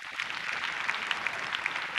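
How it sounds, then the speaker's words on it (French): Steady applause from a live comedy-show audience, a dense wash of clapping with scattered sharper claps, continuous and fairly even in level with no voices over it. "Les femmes, il faut vous applaudir très fort."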